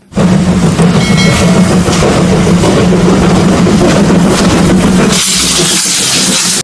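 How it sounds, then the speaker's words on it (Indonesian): A loud, close toy Thomas train rumbles and chugs continuously with steady mechanical noise, shifting to a brighter hiss near the end. "ho ho kereta Thomas"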